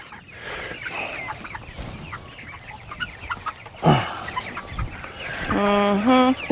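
A flock of fowl clucks and chatters continuously nearby, with one louder, drawn-out honking call near the end.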